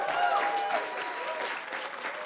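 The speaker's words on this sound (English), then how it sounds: "Convention chair, let's give him a clap." A convention audience at a professional speakers conference applauds the chair with a steady wash of clapping and faint crowd murmur, while a voice briefly rises over it near the start.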